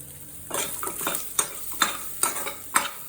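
Fried curry leaves, garlic and chillies are stirred through a dry chicken pepper dish in a pan, with five or six sharp spatula scrapes in a regular rhythm over a soft sizzle, close and alone.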